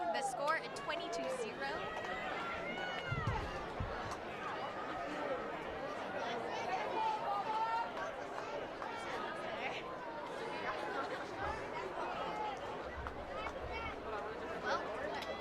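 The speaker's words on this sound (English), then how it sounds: "the crowd is very excited" Excited crowd cheering and chattering in the stands at a high school varsity football game between Kauai and Waimea just after a touchdown, a dense continuous roar of many voices throughout.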